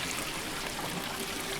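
Water pours steadily in the puzzle game Quern, a soft, continuous trickling stream heard alone and fairly quietly for under two seconds.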